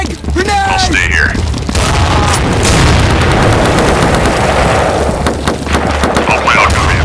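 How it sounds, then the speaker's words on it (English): A frag grenade blast in Counter-Strike 1.6 rumbles loudly through steady gunfire and battle noise, with a voice heard early on. "Frag! Grenade!"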